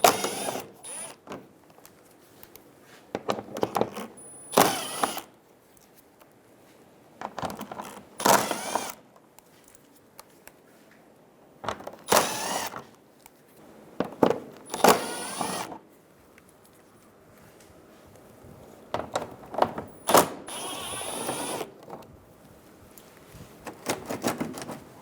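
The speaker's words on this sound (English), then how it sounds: "Using a 10mm socket, we're going to go around the front bumper on the bottom and remove all of the bolts." Ratcheting and clicking bursts from a 10mm socket removing the lower front bumper bolts on a 2007-2011 Toyota Camry, coming in short repeated spurts separated by quiet pauses, close up with no talk.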